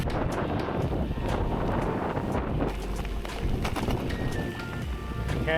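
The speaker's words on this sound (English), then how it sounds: "so far it's only been a light drizzle and quite windy" Strong wind buffets the microphone in a steady, rough rumble during a light drizzle on a bikepacking route in New South Wales, with no clear voices.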